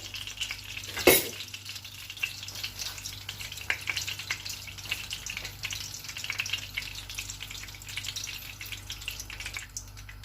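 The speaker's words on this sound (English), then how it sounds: "Allow the oil to heat up." Cooking oil heating in a pot for ogbono soup, with a steady low sizzle and crackle that runs throughout, plus a sharp clatter near the start.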